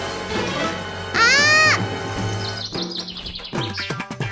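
Bird chirping in a desi comedy skit, a loud rising whistled call followed by quicker twittering notes, mixed with other effects and background noise.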